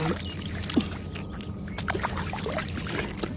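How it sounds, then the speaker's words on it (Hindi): River water splashing as someone washes their face in a fast, fairly deep river: quick close splashes and trickles over a steady flowing-water rush, no speech. "तो सबसे पहले मैं मुंह धो लेता हूँ"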